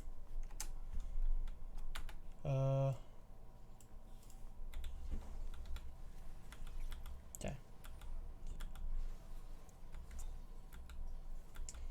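Computer keyboard typing clicks sound during a League of Legends–style team scrim, soft and fairly steady beneath game audio, with a brief spoken word partway through.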